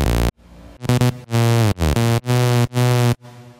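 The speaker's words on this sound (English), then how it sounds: "how to make a future rave slash like big room techno style lead that sounds like this" Future rave, big room techno style synth lead built in Serum: loud, bright, buzzy sawtooth stabs in short bursts and a pitch-sliding note, alone with no talking.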